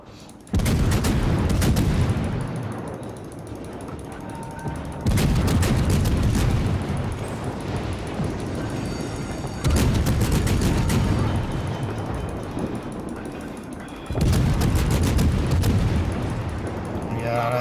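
Naval guns of an Atlanta-class cruiser firing in World of Warships, four loud booming salvos spaced about five seconds apart, each followed by a rumbling tail.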